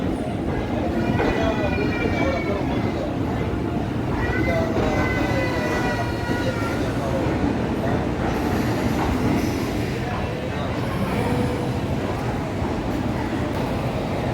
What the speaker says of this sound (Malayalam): പാസഞ്ചറാണ് കേട്ടോ, പാസഞ്ചർ ട്രെയിൻ.